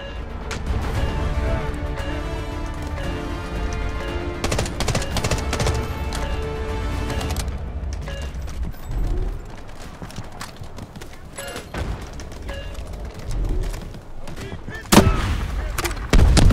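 Gunfire in the video game Delta Force: a dense run of loud shots and impacts over a steady low rumble, with a sharp burst near the end.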